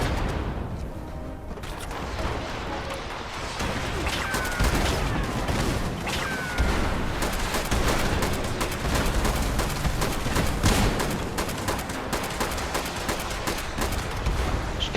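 Turret gunfire in the Fallout 76 video game during a battle, dense rapid bursts and scattered shots crackling continuously at moderate loudness, with no clear talk over the din.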